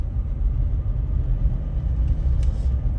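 Steady road noise inside a GWM Poer 300 diesel pickup cruising along, a constant low rumble with tyre roar and engine drone and no talk.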